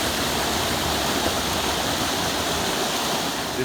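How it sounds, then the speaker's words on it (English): Steady broadband rush of a running river beside a hiking trail on Mount Washington, close by and constant, with no voices over it. "We're right near a nice running river here."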